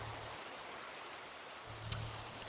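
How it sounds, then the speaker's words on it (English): Steady Minecraft rain hisses as a soft, even wash of falling drops, constant throughout with a faint low hum and one brief click. "here comes the rain"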